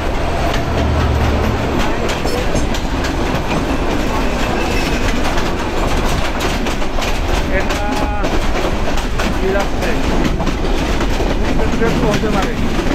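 A passenger train on the Dhaka to Cox's Bazar line runs loud and close on its rails, with a dense, continuous rumble and rapid clickety-clack from the wheels throughout.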